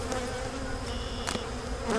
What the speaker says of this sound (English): I already looked at the other hive, and I stirred them up for you so you can hear them in the microphone.